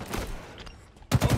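Halo Infinite ranked arena match with bursts of in-game gunfire, a rapid volley at the start and louder, punchy repeated shots near the end, close and loud with no talk over them.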